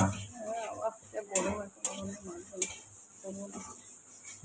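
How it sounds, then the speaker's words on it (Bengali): Chickpeas roast in a pan while being stirred, making faint, intermittent scraping and metallic clinks as a voice murmurs in the background. "ছোলা ভাজা আর একটু মুড়ি খাবো বলে ছোলা ভাজাটা ভাজছি"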